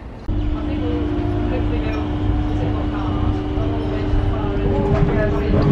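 A train hums steadily at a station, a sustained low drone with rumbling underneath and faint clatter throughout, fairly close.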